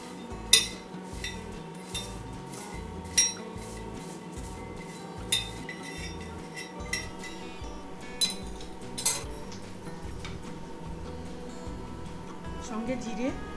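Peanuts roasting in a pan, with a steady low rumble and scattered clinks and scrapes from utensils against the pan at irregular intervals.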